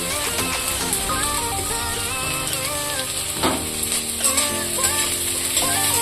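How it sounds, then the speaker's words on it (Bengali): Chopped capsicum and green chilli frying in oil for egg fried rice, giving a dense, steady sizzle with occasional stirring scrapes, close and constant throughout. "সবগুলো ভালো করে ভেজে নেব"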